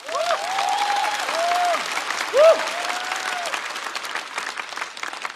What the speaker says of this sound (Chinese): 再次掌声送给呼兰